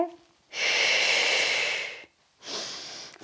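Deep, forceful breaths during an ab workout: a long noisy exhale lasting over a second, a brief pause, then a second audible breath, close and loud.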